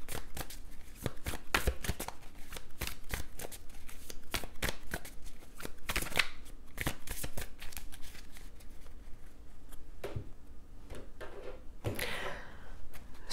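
Tarot cards shuffled and handled close by in a quiet room, a run of crisp riffling snaps and soft slides with short pauses, ending in a longer brushing shuffle, no speech.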